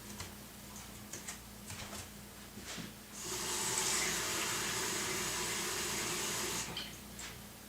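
Tap water runs into a measuring cup in a kitchen, starting with soft ticks and clatters and then a steady, close hiss of filling water for about three seconds before the flow stops.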